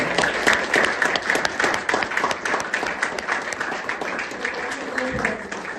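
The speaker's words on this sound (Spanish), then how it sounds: "un fuerte aplauso a nuestra compañera" Audience at an academic history conference gives a hearty round of applause for a presenter, sustained dense clapping from a seated crowd, moderately loud and even, with a voice briefly surfacing near the end.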